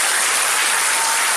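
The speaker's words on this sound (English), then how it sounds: "Big round of applause for Andrew Benson." Audience applause after a talk on UFO and 9/11 cover-up links in Holmfirth, a dense steady clatter of many hands clapping at once, sustained and fairly loud throughout with no voices.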